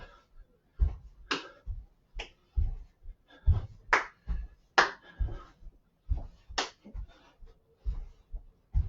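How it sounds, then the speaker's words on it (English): Rhythmic hand clapping during a home wrestling workout drill, sharp evenly spaced claps mixed with softer thumps of hands slapping knees and toes, moderately close with no talking. "Now the clap."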